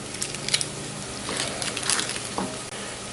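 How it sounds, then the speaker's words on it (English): Shallots sizzling and frying in a hot pan for tarka dal, a steady crackling hiss with occasional stirring scrapes nearby. "I can hear that sizzling"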